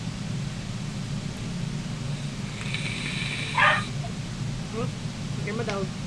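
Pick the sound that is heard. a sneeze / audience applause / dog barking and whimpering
dog barking and whimpering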